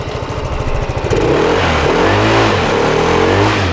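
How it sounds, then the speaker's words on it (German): A MOTRON Ideo 125cc four-stroke scooter engine idles with a steady putter, then is revved up into a loud, sustained drone that rises and dips, recorded close by. "So, einmal kurz Gas geben"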